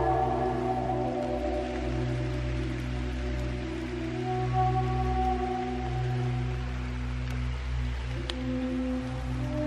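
Steady rain drums on a bushcraft shelter overnight, a continuous dense patter close around the listener, with low steady rumble beneath and no talking.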